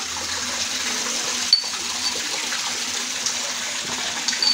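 Steady water current running through a koi fish breeding tank, a continuous even splashing rush close by with a few small clinks, no talk.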